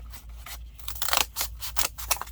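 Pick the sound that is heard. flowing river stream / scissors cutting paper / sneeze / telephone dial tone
scissors cutting paper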